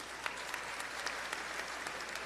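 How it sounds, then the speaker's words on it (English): Sustained applause from a large audience at a 2024 high school graduation ceremony, steady dense clapping filling the whole stretch at moderate distance with no voices over it. "We have a round of applause for them as well"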